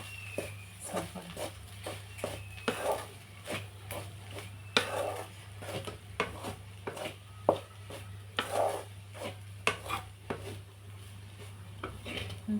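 Cooked rice stirred into a dish in a pot. Repeated close metal spoon scrapes and light taps come at a loose, uneven rhythm, fairly quiet over a steady low hum.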